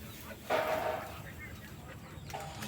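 A hen gives a brief, faint cluck in a quiet farmyard setting, one short call early on against low background noise.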